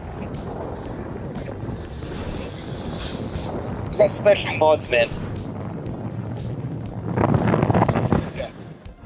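Gusty wind rumbles across an outdoor microphone, a steady low roar that swells louder near the end, with someone talking over it partway through.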